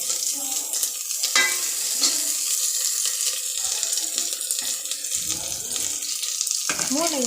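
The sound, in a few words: stirring vegetables with radish in a pan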